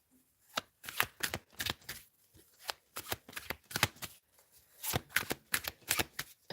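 Tarot cards shuffled in a steady series of crisp riffling bursts, close and fairly quiet, with short pauses between them and no talking.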